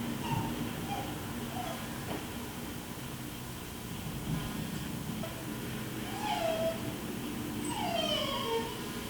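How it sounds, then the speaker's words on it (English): Faint dog whimpers and rising howl-like whines sound from somewhere inside an old mansion, drawn-out cries over a steady low background hum, distant and quiet with occasional soft voices. "It's a dog."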